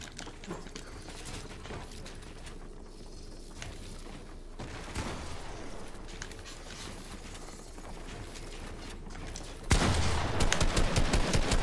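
Gunfire in a video game shooter, a long stretch of rapid, crackling shots and bursts at steady moderate loudness, growing louder and denser near the end, with no voices over it.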